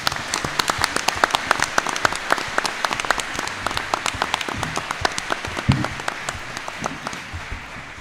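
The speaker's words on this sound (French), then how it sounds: "Merci André Koudelski, vous pouvez l'applaudir" Applause from an audience at a security forum in Champéry, dense clapping with many distinct sharp hand claps, steady and fairly close, tapering slightly toward the end.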